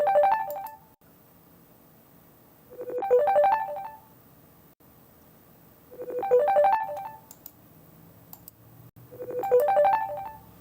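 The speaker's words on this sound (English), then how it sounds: "It's like I'm getting a phone call." Phone ringtone for an incoming call, a repeating melodic chime pattern sounding four times at regular intervals with quiet gaps between, clear and fairly close with no talking.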